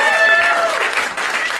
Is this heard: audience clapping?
yes